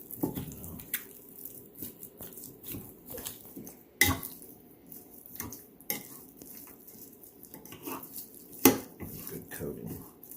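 Chicken wings are tossed and mixed to coat them, with wet squelching, scattered clinks and taps against a bowl, and a few sharper knocks.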